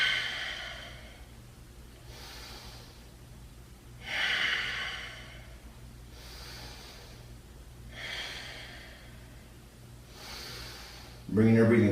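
Slow, deep breaths after a lower-body yoga workout come as soft whooshing exhales roughly every four seconds over a low steady hum, with a louder close sound at the very end.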